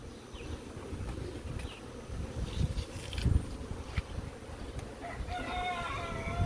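Worker bees buzz around a mature hive being readied for moving to an orchard, a dense close hum that swells and fades, while a rooster crows faintly in the distance near the end.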